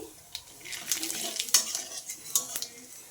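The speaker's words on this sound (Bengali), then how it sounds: "জিরে ফোড়ন দিয়ে দিচ্ছি আর একটা তেজপাতা দিয়ে দিচ্ছি" Cumin seeds and a bay leaf crackling in hot oil, a bright hissing sizzle mixed with metallic clinks and scrapes of a utensil against the pan.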